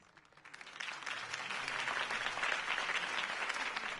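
A crowd in the Telltale Batman game applauds after Harvey Dent's campaign speech, a dense wash of clapping that swells from quiet to a sustained, moderately distant ovation with no talking.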